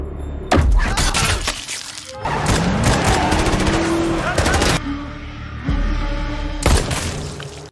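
Gunfire in a violent gangster action film scene, with a bald gang leader shooting a man, comes as loud sharp blasts and shattering bursts. Dense, chaotic stretches are separated by brief pauses, with a voice briefly mixed in.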